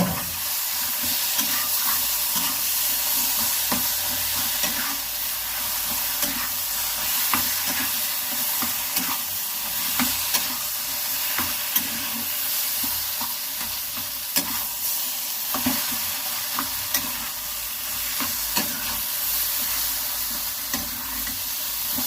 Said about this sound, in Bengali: মশলাটার সাথে ভালো করে নেড়ে নেব।